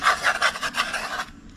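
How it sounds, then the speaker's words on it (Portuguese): Sandpaper rasps by hand across a wooden centerboard being shaped for a homebuilt sailboat, several quick rubbing strokes, close and steady, then stopping abruptly. "eu vou correr a lixa, né, e vou desbastar esse pedaço todo."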